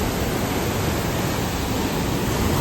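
Forceful waterfall water rushes in a dense, unbroken roar, loud and close, with no voices over it.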